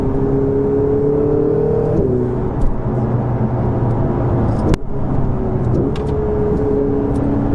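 A Ferrari supercar engine revs hard under acceleration from inside the cabin, with a rising tone that drops sharply at each shunting gear change, repeated several times.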